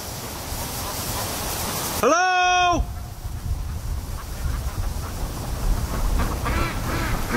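A duck gives a single loud, drawn-out nasal honking quack close by over steady wind-like outdoor noise, followed by fainter calls later.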